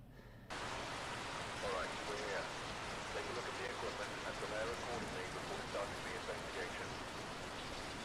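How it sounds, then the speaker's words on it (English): Steady rain in the ghost-hunting game Phasmophobia, a soft continuous hiss starting after a brief quiet moment and holding evenly, with a voice talking faintly over it. "I heard the rain."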